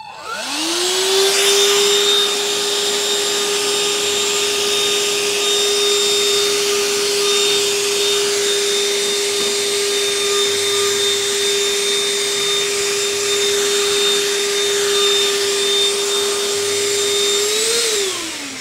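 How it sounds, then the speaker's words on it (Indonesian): A small handheld car vacuum cleaner sucking up snacks whirs steadily at close range with a high, constant whine, switching on and winding down after about eighteen seconds. "Nah, jadi sekarang kita coba vakum pakai ini."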